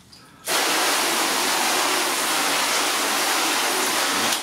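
A water jet sprays steadily onto a spray-wax-coated car surface, starting abruptly and holding a loud, even hiss for about four seconds before tapering off.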